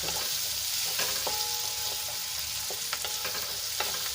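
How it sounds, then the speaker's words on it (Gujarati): Onions are stirred and fried in oil for a homemade pizza topping, giving an even, close sizzle with scattered scrapes and clicks of a spoon against the pan and a faint brief tone, with no speech. "ડુંગળીને આપણે સરસ રીતે તેલમાં મિક્સ કરીને એને આપણે સોફ્ટ થવા દઈશું"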